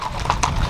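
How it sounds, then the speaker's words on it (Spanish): Horses' hooves clip-clop on pavement during a riders' parade for the 69th anniversary of La Concha, El Naranjo, San Luis Potosí: brisk, close, repeated hoof strikes over a busy outdoor crowd murmur. "Está la gente de a caballo."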